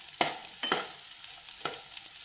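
Finely chopped onions fry in a pan as a quiet, low sizzle, broken by three sharp scraping strokes of a spatula stirring them.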